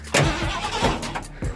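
A 1979 Ford F-150 with a 351 V8 is cranked over, the starter whirring in short uneven bursts that grind and slip rather than catching, close up and loud.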